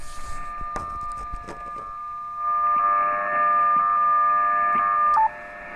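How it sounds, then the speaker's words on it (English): WWV time-signal tones pass through a ham radio transceiver in sideband mode, offset-tuned into steady, loud heterodyne whistles. A few clicks come first, then the sustained pitched tones hold alone and cut off abruptly near the end. "go into sideband mode, offset tune from it a little bit, and it creates a nice heterodyne"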